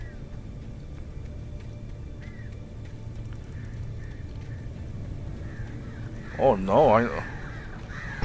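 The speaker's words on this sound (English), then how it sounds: "Now the crows." Crows in the video game Alan Wake Remastered give a couple of harsh, loud caws near the end, after a long stretch of low ambient rumble; someone speaks briefly.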